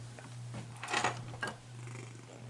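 A cat purrs close by, a low steady rumble with a soft rhythmic pulse, joined by a couple of brief louder rustles or movements partway through.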